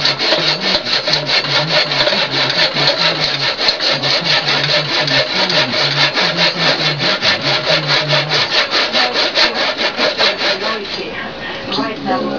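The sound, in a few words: hand saw cutting a wooden tenon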